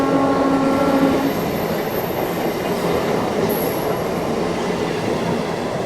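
Indian express train with blue ICF 3 AC coaches, running as the Danapur–Secunderabad special, rolls steadily along the track with a continuous loud rumble and wheel noise; brief high squeals come through near the middle.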